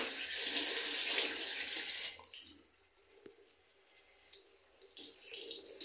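Water runs from a tap in a hotel bathroom in Kemer, with a steady hiss for about two seconds before it is shut off. Faint handling noises follow.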